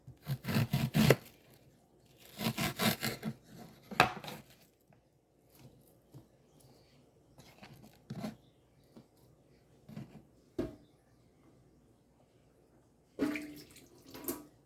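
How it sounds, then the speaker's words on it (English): An extra large onion being chopped on a board, with a few bursts of firm knife strokes in quick runs and scattered single cuts between quiet gaps, close and fairly loud. "cut up one medium to small onion"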